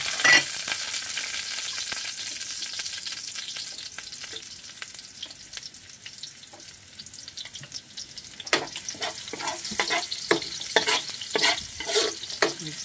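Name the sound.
garlic and onion sautéing in a pan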